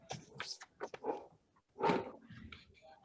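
A dog barks a few times in the background during a town conservation commission meeting, short sharp yelps and a louder burst standing out over quiet room noise.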